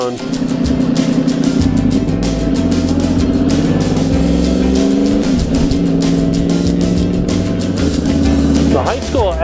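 A motorcycle rumbles through small-town streets, its engine droning loud and steady with shifting pitch as it changes gears, close to the rider and under steady wind buffeting.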